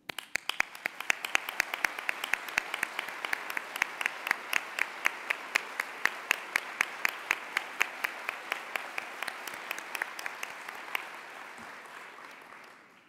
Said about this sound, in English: Would you please join me in a round of applause as our COE colleagues